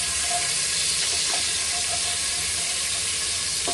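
Ginger, chili and garlic paste added to hot oil with cloves and peppercorns, a dense, steady hissing sizzle filling the whole stretch, close and loud, with faint utensil knocks and no talking.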